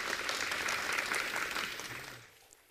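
A studio audience of supporters at a televised Vietnamese singing competition gives warm applause to welcome four contestants, a dense, loud burst of clapping that gradually fades away toward the end.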